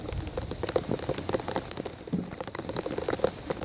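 Steady rain patters on a surface in warm weather, a soft, even hiss dotted with faint individual drops, with no voices.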